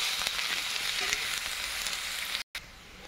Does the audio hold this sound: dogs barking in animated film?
no